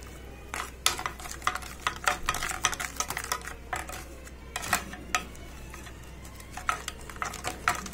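Tamarind pulp with salt and chili powder being mixed in a pot, heard as repeated scraping and clinking strokes of a spoon against the vessel in irregular bursts over a low steady hum.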